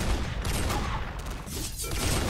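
Dense, sustained gunfire in a competitive team video game match, with overlapping shots and booms rolling continuously at steady loudness for the whole stretch.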